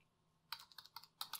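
Computer keyboard typed on close by, a quiet lead-in then a quick run of about eight sharp key clicks in uneven rhythm, with no voice.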